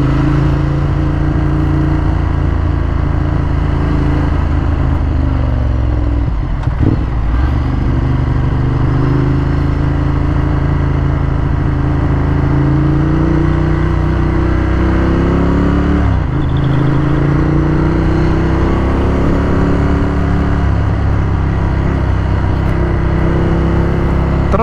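A 2015 Ducati Monster 1200S naked bike with Öhlins suspension is ridden, its engine droning loud and steady with rising and falling pitch as the throttle shifts, two brief dips suggesting gear changes.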